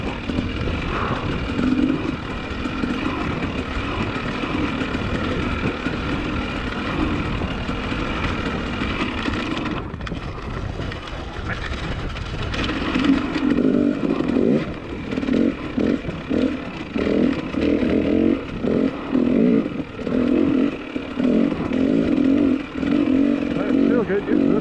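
An off-road race motorcycle runs in fourth gear during a cross-country race lap, its engine droning steadily and then pulsing louder and more choppily in the second half, with a rider talking intermittently over it.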